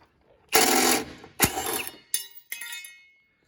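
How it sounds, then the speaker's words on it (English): Bumper retaining brackets on an Isuzu D-Max MY21 being unbolted with a 10 mm socket, a few loud, close bursts of rapid ratcheting and clicking separated by short pauses. "Remove these retaining brackets here, either side, with a 10 mil socket."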